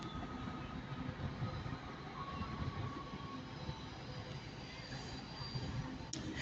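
A pair of Class 158 diesel multiple units depart Manchester Piccadilly station as an East Midlands service, a low steady rumble and drone heard from a platform with faint tonal whine and a voice talking over it.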